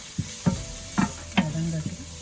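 Spices get stirred in a shallow frying pan over steady sizzling oil, with four quick metallic scrapes and taps in a loose rhythm, close and clear, no talking.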